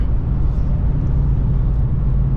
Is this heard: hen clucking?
no